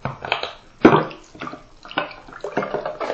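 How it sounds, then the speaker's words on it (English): Water splashes and sloshes in uneven bursts as a plastic hamster ball is washed under running water, close by. "I just want to kind of wash the outside of the ball too"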